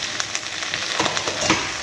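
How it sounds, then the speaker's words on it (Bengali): Green chili, ginger and tomato fry in a pan with a soft, steady sizzle and a few stirring scrapes, close and moderately loud, with no talking. "একটু ভেজে নেব।"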